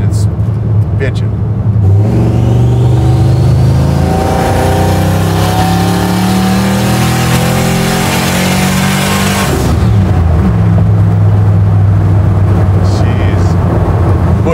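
A 760 hp turbocharged Chevy C10 pro touring truck's engine builds into a loud rising rev, roaring and climbing in pitch before dropping away, with rushing road and wind noise around it.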